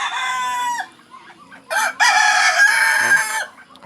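Chickens cluck and a rooster crows loudly nearby, with a couple of long crowing calls and shorter clucks between them.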